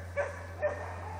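A Jämthund, a Swedish spitz-type dog, lets out two short high whimpering yelps close by over a steady low hum, with no talking.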